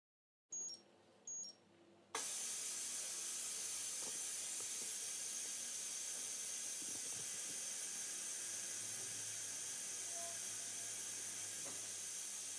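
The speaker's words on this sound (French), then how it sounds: "dès que ça va finir, ça va sortir la fumée" A Cookeo electric pressure cooker vents steam at the end of cooking, a couple of short beeps followed by a strong, continuous hiss that holds loud and steady for about ten seconds.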